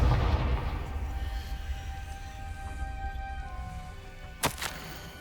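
The Confringo fire spell in the video game Hogwarts Legacy gives a sharp, loud blast near the end, set against a low rumbling background.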